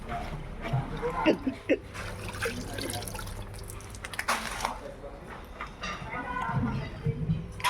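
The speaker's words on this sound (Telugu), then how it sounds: "ఈ కాయలు ఒకసారి మనం బకెట్ తీసుకొని అట్లా క్లీన్ చేసుకుంటే మురికి అనేది అడుగుని ఉంటుంది" Dried red chillies are washed by hand in a bucket of water, giving irregular sloshing splashes and drips close by, with a person talking at intervals over the water.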